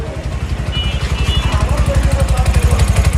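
A 2026 Bajaj CNG auto-rickshaw engine idles nearby with a loud, steady, rapid putter and a faint clatter throughout.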